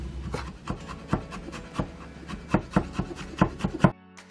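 A kitchen knife mincing a dumpling filling of soaked dried shiitake and other ingredients on a wooden board, a series of close, crisp chopping taps in an uneven, quickening rhythm that stops abruptly near the end.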